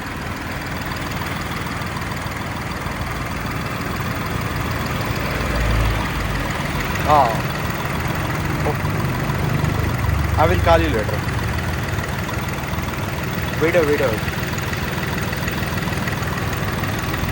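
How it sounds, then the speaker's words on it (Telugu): A diesel Hyundai Grand i10 Sportz (O), 2017/18, idles with a steady, low hum throughout, while a person speaks briefly over it. "ఇంజన్ మాత్రం చాలా సైలెంట్ ఉంది"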